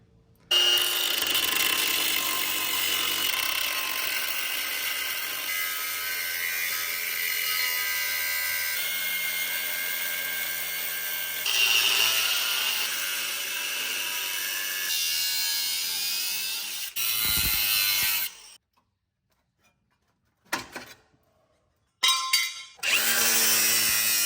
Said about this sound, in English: We're gonna cut there, we're gonna cut here, we're gonna cut along there, and then we're gonna cut along the bottom.